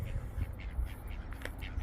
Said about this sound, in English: And the chicken ducks should be somewhere.